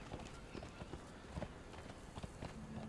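Horse hooves clop in a video game, a scattered run of light hoofbeats repeating over constant game background noise, moderately close.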